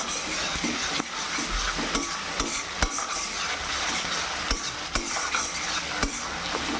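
A spice paste for rohu fish gravy, with tomato, fries and sizzles steadily in a pan while a spoon scrapes and knocks against the metal in irregular strokes, close and moderately loud.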